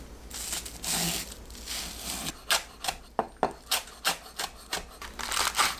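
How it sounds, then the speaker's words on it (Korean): A knife finely chops green onions on a board, with a run of quick, crisp rhythmic knocks after some softer rubbing and scraping, heard up close and alone. "파를 작게 썰어주세요."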